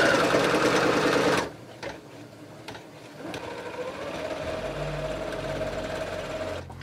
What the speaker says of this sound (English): So I'm just going to sew those 3 edges I showed you earlier.